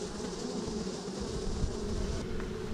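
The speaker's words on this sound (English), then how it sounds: "These bees are spreading the queen's pheromones, calling the rest of the colony into the hive." Rescued swarm of bees in Wimmera, Victoria, Australia, streaming into a new hive box, a dense, steady buzzing drone from many insects close by, constant and moderately loud throughout with no voices.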